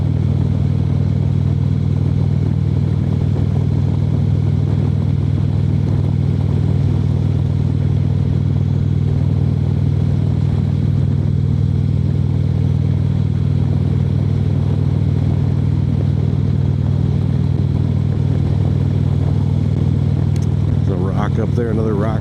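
A motorcycle cruises along an open road, its engine droning steadily and loudly with heavy wind rush throughout, and a brief rattle near the end.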